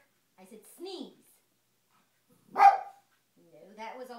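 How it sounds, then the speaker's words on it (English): A dog lets out one loud, close bark, with a person talking before and after it. "No, that was also a bark."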